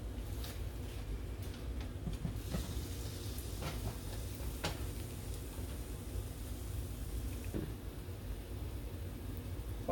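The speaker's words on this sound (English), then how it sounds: "Once you get the bubbling effect pretty much around the edges of the toast" Southern-style French toast frying in a pan, a steady soft sizzle and bubbling with faint crackles running throughout, close and continuous with no talking.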